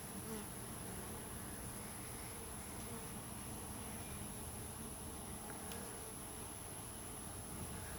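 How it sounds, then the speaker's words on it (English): Bumblebees buzz continuously as they feed on honey outdoors, a dense steady hum of several insects close by without any pause or talking. "Second bumblebee."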